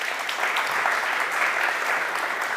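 An audience at a livestreamed startup pitch event gives sustained, even applause, a dense wash of many hands clapping that holds steady at moderate loudness.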